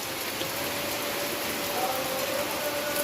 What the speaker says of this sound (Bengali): ব্যাপক বৃষ্টি, ঝড় বৃষ্টি দুটোই।